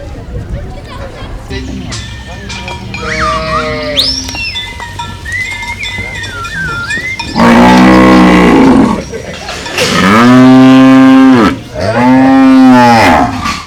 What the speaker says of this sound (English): It is time to release the beef cattle to grazing fields in nearby thickets, especially in the hills.